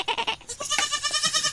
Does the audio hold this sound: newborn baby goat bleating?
yes